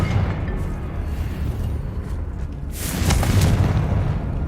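Confringo fire spell blast in Hogwarts Legacy, a loud booming burst with a crackling fiery rush rising near the end over a rumbling low backdrop.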